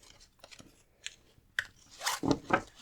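Tarot cards from a Gravity Falls deck being shuffled by hand, soft scattered riffles and flicks that build to a denser, louder burst of shuffling near the end, close and without talk.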